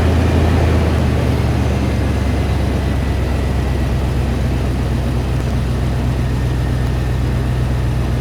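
A 4.6L V8 engine running smoothly, a loud, steady low rumble with an even drone and no misses, heard close up.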